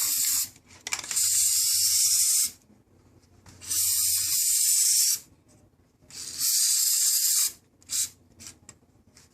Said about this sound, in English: you want to spray some 3M spray adhesive on the flap